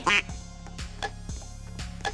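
Duck quacking in the Roblox game Don't Press The Button, several loud quacks at a quick, uneven rhythm, close and clear with no talk over them.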